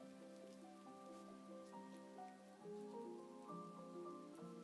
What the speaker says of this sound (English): Yeah, it's raining here.